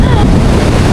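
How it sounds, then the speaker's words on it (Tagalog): Strong wind buffets the microphone at Boracay beach during the habagat monsoon, with big waves surging below in a constant loud roar and no pause across the short stretch. "lakas ng hangin at laki ng alon"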